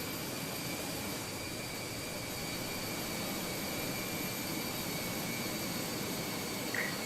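Airbus A320 jet engines whine steadily in Microsoft Flight Simulator, a constant broadband roar with a thin high tone running unbroken throughout.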